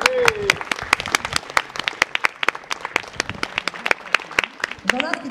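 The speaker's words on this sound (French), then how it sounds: "Est-ce qu'on pourrait pas les applaudir une dernière fois?" A live comedy audience claps for performers in a burst of scattered, sharp handclaps that lasts several seconds, with voices mixed in.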